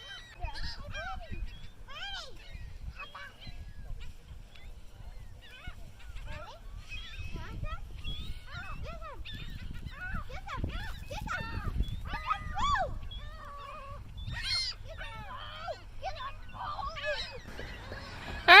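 A flock of geese honks repeatedly at close range in an outdoor spot where birds were being fed, with overlapping calls throughout and people talking alongside them.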